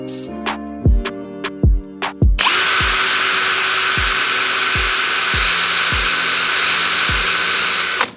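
A 775 DC motor under test starts with several sharp bursts, then spins up into a loud, continuous high-pitched whine with a steady periodic ticking beneath it.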